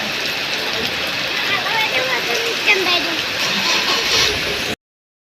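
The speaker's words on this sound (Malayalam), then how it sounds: "നല്ല ഇടിയും മഴയാണ് പാലക്കാട് മണ്ണാർക്കാട്" Steady, dense hiss of heavy thunderstorm rain pouring continuously nearby in Mannarkkad, Palakkad, Kerala, with no clear breaks, before the sound cuts off abruptly.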